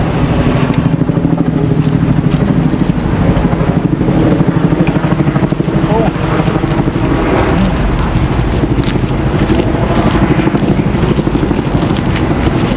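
A helicopter drones continuously with a loud, thudding rotor chop and engine roar, with some wind buffeting the microphone.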